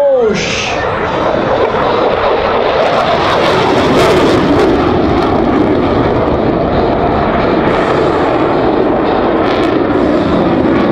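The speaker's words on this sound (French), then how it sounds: "Le rafale sur le display sur votre gauche." A Dassault Rafale jet fighter flies a solo display at an air show, its loud continuous engine roar sweeping in with a brief whine at the start and holding a broad, powerful rumble.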